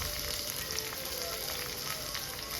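Onion, garlic, tomato and dried chili fry in a pan with a dense, constant sizzle that is close and fairly loud, without a break and without voices.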